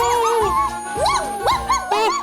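A dog in a children's cartoon about a lost puppy gives a few loud, close whining barks and rising whimpers, about four pitched yelps in quick succession.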